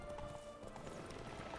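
A horse in the video game Witcher 3 clip-clops with faint steady hoofbeats, quiet and low in the mix.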